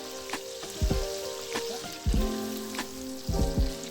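Gnocchi toasting in bacon and guanciale grease in a pan, a soft continuous sizzle broken by a few louder thumps and clinks as the pieces are moved around.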